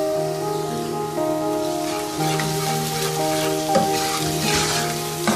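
Steady loud sizzling of onions frying in a hot pan, with occasional stirring scrapes over the constant crackle.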